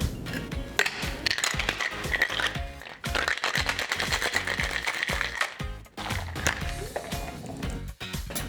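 Ice rattles hard inside a cocktail shaker holding a blueberry thyme gin drink, a loud rapid rhythmic clatter that continues for several seconds with brief pauses between bursts.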